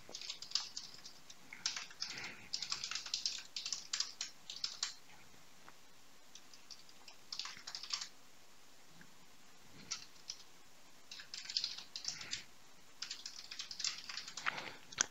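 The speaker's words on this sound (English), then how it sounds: "I'm going to start typing some text." Quiet, close typing on a computer keyboard comes in bursts of rapid key clicks, separated by short silent pauses.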